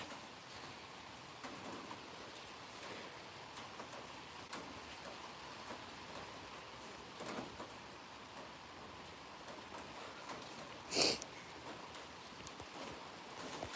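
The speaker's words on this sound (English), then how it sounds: "It's raining right now." Rain falling outdoors, a faint steady hiss of drops with no talking and one brief sharp click partway through.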